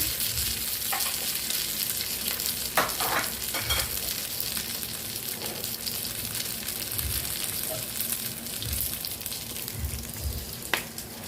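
Onion going into a pan with fried fish head, a loud, continuous close sizzle with stirring scrapes and occasional spatters throughout.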